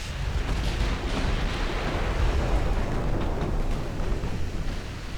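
Naval artillery fire in Ultimate Admiral Dreadnoughts, a dense, continuous rumble of heavy guns and booming blasts from a battlecruiser action, loud and sustained without pauses.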